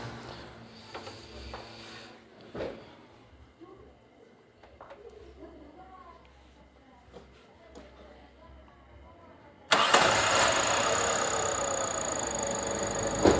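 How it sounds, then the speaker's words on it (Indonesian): A Daihatsu Taruna engine, after timing belt and valve clearance work, cuts in abruptly as a loud, steady, close roar following a quieter stretch of faint sounds and low voices. "Di sini dari mesin idle-nya juga lebih enak."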